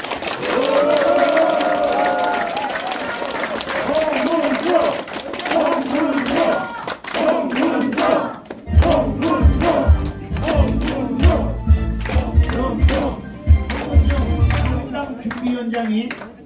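Party members at a Korean party convention applaud and cheer to welcome Hong Moon-jong as new party leader. Loud, dense crowd clapping and shouting mixed with voices continues throughout, with heavier low rumbling thumps in the second half.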